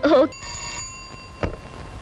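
A telephone bell rings in a short burst in an agency office, its tone hanging briefly before cutting off, followed by a dull thump and quiet room noise.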